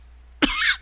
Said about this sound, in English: I think I have got a cold. I coughed.